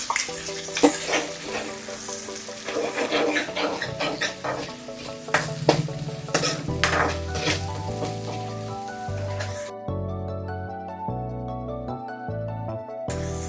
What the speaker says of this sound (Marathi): हा मसाला पूर्ण तेल सुटेपर्यंत आपल्याला तळून घ्यायचा आहे